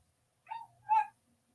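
A puppy gives two short, high yelping cries close by, one weaker and whimpering and one louder, in an otherwise quiet room.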